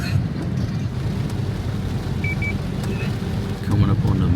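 A car drives along a wet road in rain, with a steady broadband hiss of water and tyres over a low engine rumble, and faint wind buffeting.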